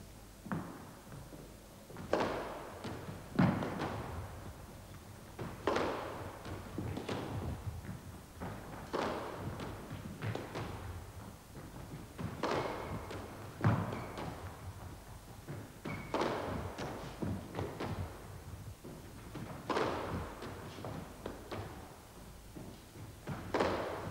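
A squash ball is struck back and forth in a lob shot practice rally on a court, in a 1970s instructional setting: repeated hollow thuds and bounces at irregular intervals, echoing and moderately distant, with no speech.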